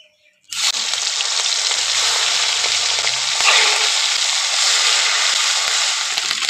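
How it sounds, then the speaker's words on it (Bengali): Prawns frying in hot mustard oil in a kadai, a loud, steady broadband sizzle that bursts in after a brief silence and holds continuously throughout. "এবারে চিংড়ি মাছগুলো ভেজে নেবো।"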